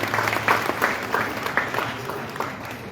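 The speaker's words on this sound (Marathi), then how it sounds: "त्यांच्यासाठी एक जोरदार टाळ्या होऊ दे" Audience applause at a high school ceremony for Sarvodaya Educational Society High School in Kudchade, a steady, dense crowd clapping that holds for about three seconds with slight swells, fairly close and loud.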